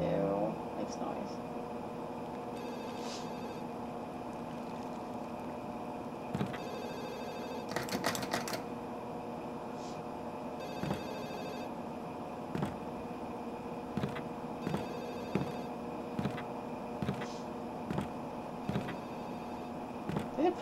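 An old phone rings repeatedly in the Ju-On horror video game, its clipped electronic bell pulses repeating at a steady rhythm through a constant low hum, with people talking over it.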